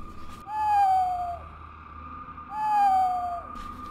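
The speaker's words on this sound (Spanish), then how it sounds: "cantan las lechuzas en el cementerio" Owls hoot as a spooky horror-story sound effect beside a cemetery at night, two long, clear, wavering calls about two seconds apart over a low background hum.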